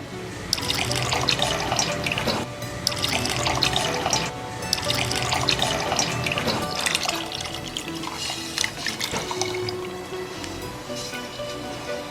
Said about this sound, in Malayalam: നാരങ്ങാനീര് നമുക്ക് ചേർക്കാം.